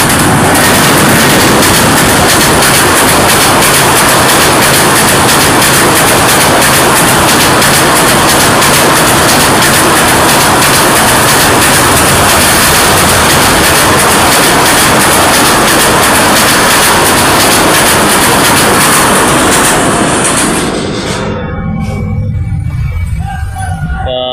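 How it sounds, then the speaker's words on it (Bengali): A train roars past close by at high speed near a bridge at Ghorashal, Narsingdi, a loud sustained rush of wheels and wind that abruptly fades near the end. "আরেকটা ট্রেন আপনারা দেখতে পেলেন, অত্যন্ত সুন্দর"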